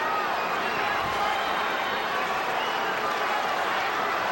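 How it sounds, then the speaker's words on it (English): A boxing arena crowd roars steadily at ringside action in a Mosley versus De La Hoya fight, a dense, loud wash of cheering that holds constant throughout with no breaks. "Crowd responding to the new action as Mosley throws from a new position"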